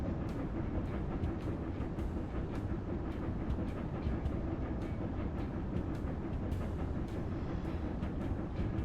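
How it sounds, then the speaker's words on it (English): A train runs along tracks in the video game Railroad Corporation 2, a steady rolling rumble with regular clicking rail joints throughout, loud and continuous with no voices. "Watching my train go as slow as it can"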